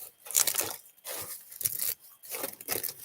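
Dried garden scraps crushed by hand, giving three bursts of dry, crackling crunch about a second apart, close and fairly loud with short pauses between.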